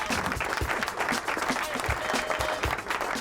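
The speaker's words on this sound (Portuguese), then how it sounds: "Aplausos," Applause at the close of a running podcast: a faint, steady patter of many hands clapping for about three seconds, with no voices over it.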